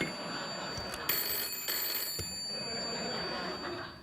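A telephone rings on a late-night talk show set, its bright electronic ringing tone repeating over a steady room background.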